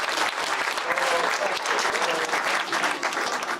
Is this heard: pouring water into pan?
no